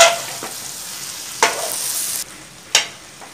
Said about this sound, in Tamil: காரத்துக்கு தாளி பண்ணுறது